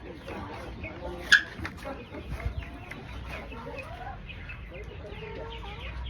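Breeder chickens, the parent stock of a backyard poultry farm, cluck softly and steadily in the background, with one sharper squawk near the start and a low hum of farmyard noise throughout.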